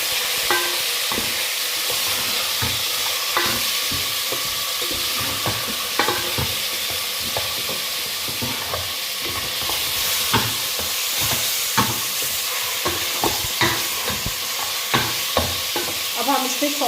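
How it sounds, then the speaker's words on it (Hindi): Mutton pieces sizzle and fry in hot oil in a pan for aloo gosht, with steady crackling spitting and frequent scraping stirs throughout, no talking. "इसके साथ ही हम ये अपना गोश्त ऐड कर देंगे"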